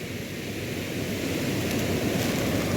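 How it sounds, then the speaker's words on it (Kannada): A constant roar of rough sea surf and strong wind fills the coastal fishing scene, a dense unbroken rush with no pauses. "ದೊಡ್ಡ ಗಾಳಿ ಬರ್ತಾ ಉಂಟು ಕಡಲ್ ತುಂಬ ರಫ್ ಉಂಟು ಇವತ್ತು"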